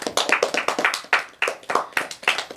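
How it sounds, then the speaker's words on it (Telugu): Children clap together in a fast, slightly ragged burst of close, crisp handclaps that runs evenly for a few seconds. "నిజంగా ఒకసారి క్లాప్స్ కొడదాం అక్షత్కి"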